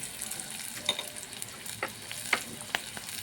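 Green chilies, turmeric and spices fry in hot oil for a Bengali pabda fish curry, giving a soft, steady sizzle with faint scattered pops and stirring clicks.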